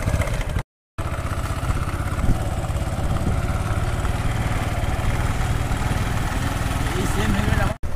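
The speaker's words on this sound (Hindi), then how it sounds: "ये इसका बाइक नहीं स्टार्ट हो रहा है" A motorcycle that will not start properly: a loud, steady, rough engine chug runs throughout, briefly cutting out near the start, with voices talking over it.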